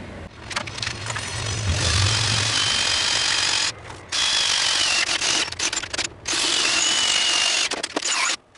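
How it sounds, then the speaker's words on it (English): A power drill bores a hole during repair work on an MTD Yard Man riding mower, running loud and close in long whining bursts with brief pauses between them. "So I'm gonna go ahead and drill a hole real quick"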